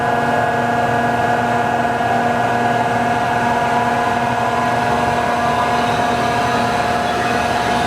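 A Cincinnati Milacron-Heald Model 2 high-precision universal internal grinder runs its work head at full speed, a loud, steady mechanical drone with a constant whine and no break or pause.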